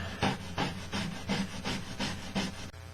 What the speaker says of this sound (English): I got a little sanding stick over here